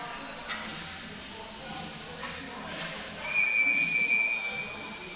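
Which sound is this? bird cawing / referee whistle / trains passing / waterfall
referee whistle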